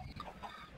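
Minecraft chickens clucking on an egg farm, a few short, soft game-style clucks in quick succession, faint and close with no talking.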